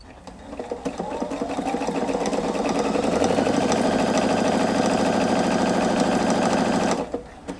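Viking Opal 690Q sewing machine stitching a buttonhole, a loud rapid mechanical chatter that starts, speeds up and runs steadily for several seconds before stopping abruptly.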